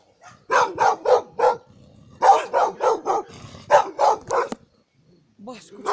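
A dog barking in bursts of four or five loud, close barks separated by short pauses, with low growling sounds between them and no talk.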